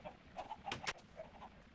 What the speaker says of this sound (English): the chickens up there